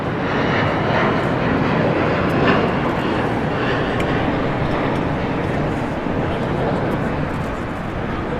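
An airliner at LAX roaring loudly and close, a continuous broadband jet engine rumble that holds steady throughout.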